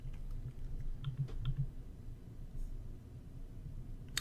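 Someone types on a computer keyboard, a quiet burst of soft clicking keystrokes followed by a short pause, close by and with no speech.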